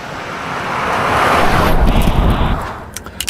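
An electric Cadillac Escalade accelerates hard, with a rising whoosh of wind and road noise that swells, peaks and then eases off, heard from inside the cabin with no talk.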